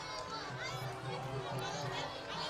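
A large crowd lining both sides of the road to welcome the president on a meet-the-people tour, a steady, dense murmur of many voices and chatter, fairly distant and continuous.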